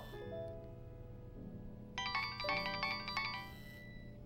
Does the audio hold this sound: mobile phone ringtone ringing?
yes